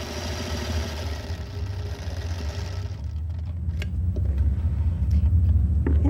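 A sewing machine stitches a diagonal line across a pot holder with a steady, close motor hum. The hum shifts in texture partway through, and faint ticks sound toward the end.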